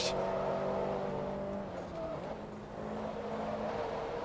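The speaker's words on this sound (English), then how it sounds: "God, the turbo is so loud in this car." A loud turbocharged Class A race car in Forza Motorsport 2 drones steadily around Silverstone Grand Prix circuit, its engine tone and turbo whine holding near and constant, dipping in pitch briefly midway before rising again.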